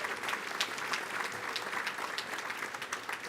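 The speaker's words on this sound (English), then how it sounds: "Let's give all of our all-star sponsors a round of applause." A crowd at a school athletic hall of fame dinner and induction gala claps for the sponsors, a continuous, even wash of applause from many hands that lasts the whole stretch.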